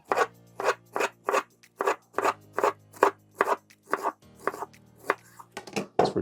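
A knife cuts fruit into quarter-inch slices on a board, each stroke giving a crisp crunchy chop in a steady, even rhythm of about a dozen cuts, close and clear with no talking.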